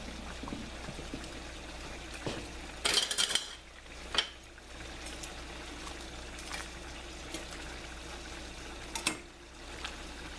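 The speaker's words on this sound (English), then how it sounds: "we're going to mix that a little bit more" Pasta being mixed with utensils in a pan, faint scattered clinks and scrapes of metal against the pan with a quiet watery trickle underneath.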